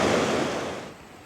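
Bear Creek on a mountain trail rushes steadily as a broad, close wash of flowing water, loud at first and easing slightly over a brief moment, with no voices.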